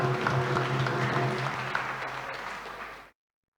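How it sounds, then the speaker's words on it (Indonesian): Church congregation applauding a choir group at a New Year's Day Mass for Mary, Mother of God, a dense steady clapping over a faint low hum that fades and stops abruptly near the end. "Tepuk tangan untuk kelompok ini."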